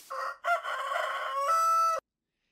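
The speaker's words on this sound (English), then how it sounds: "And there's a rooster sound again." A Minecraft Bedrock rooster crows once, a short clipped opening note followed by a long, bright, drawn-out call that cuts off sharply, alone and close.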